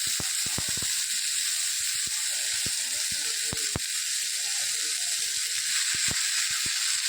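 Fenugreek greens sizzle steadily in a hot pan, a continuous bright hiss dotted with sharp pops and crackles throughout.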